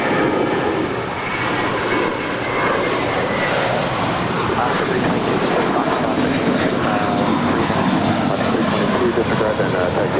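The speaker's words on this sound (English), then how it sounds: "That was American 519 departing to Los Cabos. It's a 7-year-old Airbus A321." A seven-year-old American Airbus A321 jet departs LAX for Los Cabos, its steady, loud engine roar filling the whole stretch with a broad, constant rumble.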